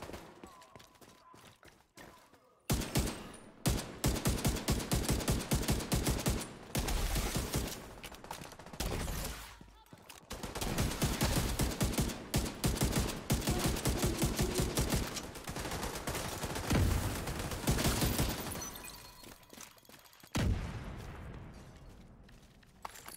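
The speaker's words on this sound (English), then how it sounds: "It's the M16A2. It's a rifle, but it's auto." An M16A2 rifle fires in the video game The Division 2, with rapid bursts of sharp, loud gunfire in dense volleys broken by brief pauses, and voices talking faintly underneath.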